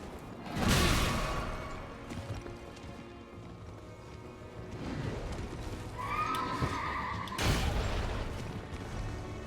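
A horse whinnies loudly amid rumbling, whooshing combat noises in the video game Elden Ring, with heavy bursts near the start and again toward the end.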